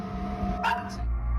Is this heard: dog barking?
yes